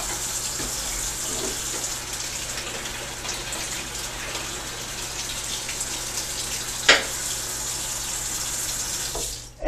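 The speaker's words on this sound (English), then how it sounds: "Let me just run this under a little bit of cold water." Cold water runs steadily from a tap over a PVC bow, a continuous hiss of flow with a brief splash or knock near the end.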